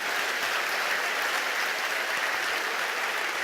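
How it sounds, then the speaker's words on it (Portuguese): A church congregation claps for the Lord in loud, steady applause that holds evenly throughout, a dense wash of many hands with no voices on top. "Por favor, dê um aplauso bem forte ao Senhor."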